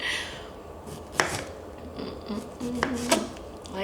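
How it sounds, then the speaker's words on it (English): A bending kitchen knife slices radishes for a salad, giving a few sharp close chopping knocks against the board, with scraping between and faint background chatter. "The knife is like bending as I cut."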